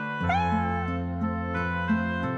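Cartoon kitten gives a single high, drawn-out meow, clear and close, over soft background music with no talking.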